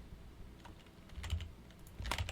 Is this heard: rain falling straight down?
no